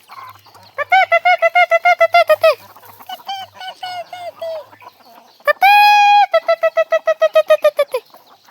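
Chickens gathered at a home make loud, close, rapid repeated calls in quick rhythmic pulses, with a sustained squawk partway through before the quick calling resumes, and no talk.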